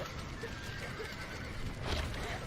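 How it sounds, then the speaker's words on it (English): A horse whinnies faintly in the video game Red Dead Redemption, under a low background rumble, with a brief louder burst near the end. "Now let's save the horses."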